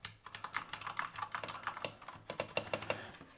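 Steady run of crisp clacky keystrokes on an Akko World Tour Tokyo 60% mechanical keyboard, pink edition, typed at an even rhythm and recorded up close with no voices.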